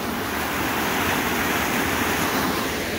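A loud waterfall roars steadily in a New Zealand jungle, a constant close, dense rushing wash of falling water with no voices over it.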